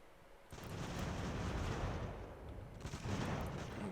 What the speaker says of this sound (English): A lot of cannon.